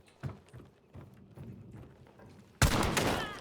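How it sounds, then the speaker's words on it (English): A loud burst of gunfire from the video game Hunt: Showdown breaks in near the end after quieter shuffling and footsteps, with no talk. "Shoot him, Miles, shoot him."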